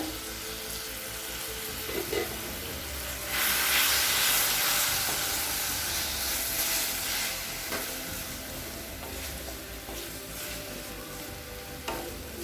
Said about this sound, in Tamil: இப்போ மிளகாத்தூள் வாசனை போக 1 நிமிஷம் வரைக்கும் நல்லா வதக்கியாச்சுங்க